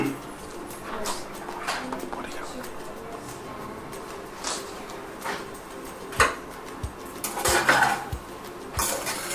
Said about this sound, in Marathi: आता याला व्यवस्थित आपण हलवून घेत आहोत.